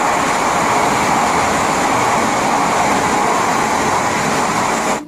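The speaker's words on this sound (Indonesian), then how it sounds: "Widih, kereta api cepat." A loud, steady rushing roar of a fast train passing close by in a video game holds constant for several seconds, then cuts off abruptly.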